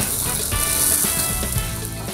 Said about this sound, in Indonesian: Kita tumis bumbu irisan sampai layu dan harum.